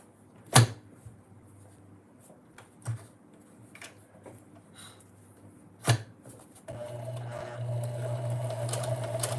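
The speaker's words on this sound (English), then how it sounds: "Let's backstitch that part. I don't want to deal with that unraveling." A sewing machine backstitches a seam: scattered sharp clicks and taps come first, then the motor starts up with a steady, close whir that runs to the end, and no one speaks.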